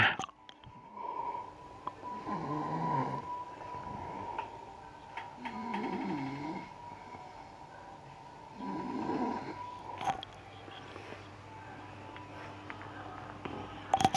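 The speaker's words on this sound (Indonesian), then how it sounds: "Nih lah dia tidur ngorok." Someone sleeping and snoring, with slow, recurring low rasping breaths at a few-second intervals over a steady background hum, fairly quiet and close.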